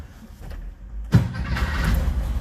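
An old engine, primed with pumps, cranks and briefly catches with a loud low rumble before running on unevenly and not keeping going; a near, steady mechanical roar dominates throughout.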